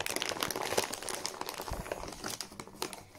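A treat bag crinkles and rustles in sharp, irregular bursts as a Großspitz puppy handles it. The sound is close and fairly quiet, with no talk over it.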